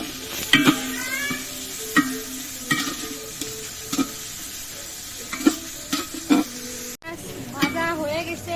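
Whole garam masala and bay leaves sizzle in hot oil while a spoon stirs and scrapes the pan in steady strokes, with a voice talking over the cooking.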